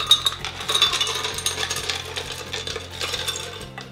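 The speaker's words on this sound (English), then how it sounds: "I'm going to put my ice cubes in here." Ice cubes clatter and rattle as they drop into a blender jar for crushing, a dense, continuous jangle of hard hits over a low steady hum, close and fairly loud.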